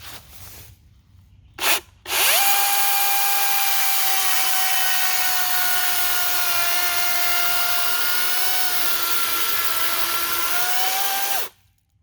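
A Dewalt 16-inch 60V MAX battery chainsaw whines steadily through a fallen pine log for about nine seconds after a couple of short revs, then stops; loud and close, no talking.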